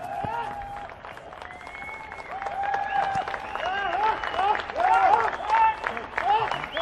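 Cricket crowd at a Nepal versus UAE match applauding the opening batsman, steady clapping and crowd noise under a commentator's continuous talk.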